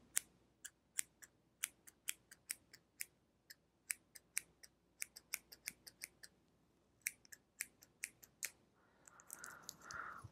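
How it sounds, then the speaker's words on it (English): Crisp, rapid snips of small scissors close by, a steady run of sharp metallic clicks with brief pauses, ending in soft rustling. "I am using a smaller pair of scissors"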